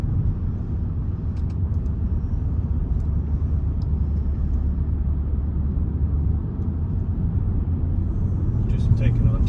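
A car travels slowly around tricky bends on roads in the Penmachno area, a steady low engine and road rumble running throughout under occasional faint sounds.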